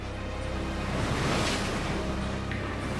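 Storm waves three to four metres high crash onto a beach in a continuous loud roar of surf mixed with wind noise, close and sustained.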